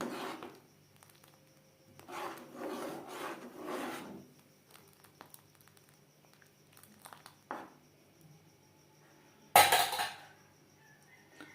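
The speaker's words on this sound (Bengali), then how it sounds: "গোবিন্দভোগ চাল অ্যাড করেছি এভাবে একটু নাড়াচাড়া করে দিতে হবে চাল যাতে দলা পাকিয়ে না যায়" Gobindobhog rice for payesh is stirred in a pan, giving soft rubbing, scraping strokes in quiet bursts and ending with a louder sharp clatter.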